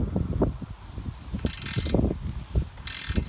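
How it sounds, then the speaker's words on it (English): Lock washer and nut being tightened onto a Solarcon A-99 antenna, with a dense rattle of ratcheting clicks and two brief hissy bursts, close and moderately loud, with no talking. "Then you stick another lock washer on and another nut."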